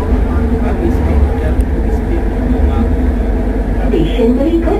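A metro train speeds through a tunnel about five storeys below ground, giving a steady, heavy low roar for several seconds while someone speaks over it.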